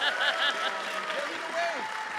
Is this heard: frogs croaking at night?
no